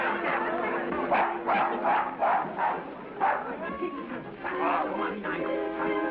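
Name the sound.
dog barking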